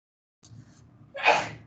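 A single sneeze during a chemistry lecture on pH calculations, a short inhaled gasp followed by a loud, sharp burst, heard fairly close in a quiet room.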